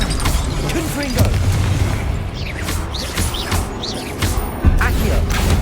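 Confringo explosive spell blasts in the video game Hogwarts Legacy, several booming impacts and crashes going off amid a busy magical duel, with voices shouting over the action.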